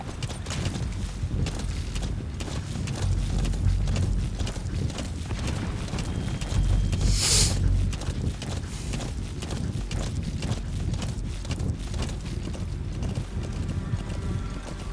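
A horse gallops in Metal Gear Solid V: The Phantom Pain, its hooves drumming in a fast, continuous rhythm close up. A brief mechanical whoosh cuts in midway, and nobody talks.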